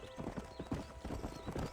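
Horse hooves clip-clopping in Red Dead Redemption, a steady, rhythmic run of hoofbeats close up that continues throughout.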